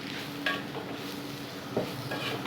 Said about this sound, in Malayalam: ഒരു നുള്ളു ഉപ്പിട്ട് കൊടുത്തു കഴിഞ്ഞാൽ സവാള നമുക്ക് വേഗം വഴന്നു കിട്ടും